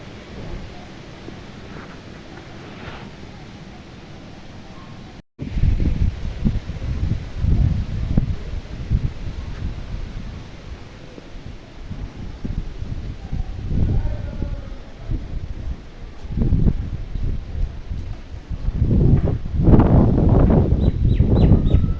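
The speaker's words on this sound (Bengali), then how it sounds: "এটা অদ্ভুত ঠান্ডা হাওয়া দিচ্ছে" Cold wind blowing across a rooftop under cloudy skies, heard as a loud, low buffeting rumble against the microphone that swells and gusts unevenly after a brief quieter opening.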